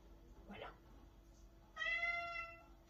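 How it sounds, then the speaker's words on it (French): A house cat lets out one clear, drawn-out meow close by, following a brief murmur of sound in an otherwise quiet room. "il y a le chat là, Matou là."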